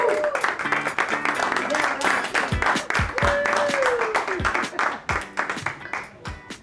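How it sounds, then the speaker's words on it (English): Audience applause at a construction industry event in Minneapolis as a speaker walks up to the stage, a steady clatter of many hands with voices and music-like tones mixed over it throughout. "Give a round of applause to Rocky as he comes on up."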